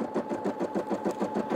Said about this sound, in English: the machine will go ahead and sew over it